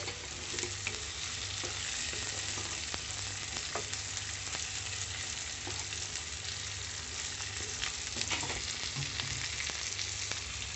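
Tomatoes stirred into frying mutton curry give a continuous, fairly quiet sizzle and bubbling fry, with occasional soft scrapes of the spoon through the pan and no voices.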